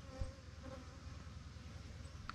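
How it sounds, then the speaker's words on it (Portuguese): Honeybees hum around outdoor hive boxes in a continuous, faint, low buzz that rises briefly near the start. "Olha a quantidade de abelha aqui, ó."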